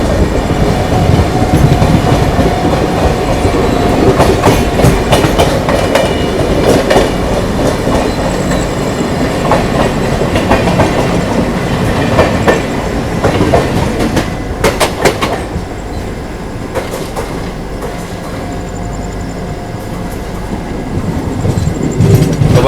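A Prayagraj–Dadri summer special passenger train rolls steadily along the tracks with rhythmic clickety-clack of wheels over rail joints, loud and continuous throughout, with occasional wheel squeal and rattling of carriages, no voices.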